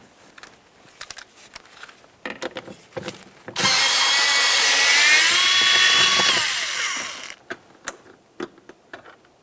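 A power driver spins out a 10mm bolt from behind a rear interior door panel of a 2009-2019 Ford Flex, a whirring burst of about three seconds, with light clicks and taps before and after.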